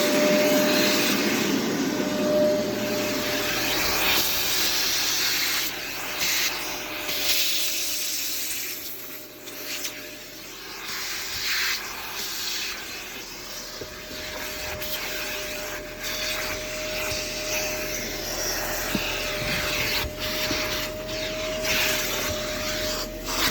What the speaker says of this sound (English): let's kick on the vacuum